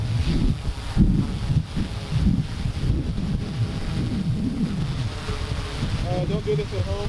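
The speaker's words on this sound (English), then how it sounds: "Oh, it's so windy. So windy." Strong outdoor wind buffets the microphone in loud, continuous low rumbling gusts while a DJI Inspire drone flies overhead, with a faint voice briefly audible near the end.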